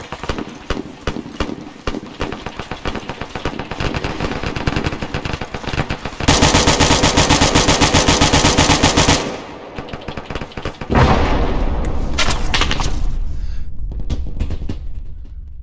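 Rapid gunfire in a video game rattles out in dense, loud bursts, with sustained automatic fire and gaps between volleys, close and harsh throughout.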